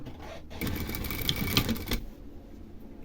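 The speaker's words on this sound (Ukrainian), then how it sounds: "Зборку рівномірно розподіляю до необхідної довжини і настрочую." A sewing machine runs in one close, steady burst of about a second and a half, stitching gathered fabric onto a half-circle skirt with an elastic waist. Quiet room tone comes before and after.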